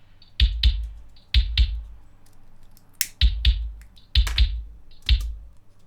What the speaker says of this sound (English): the click in isolation is more than you might want it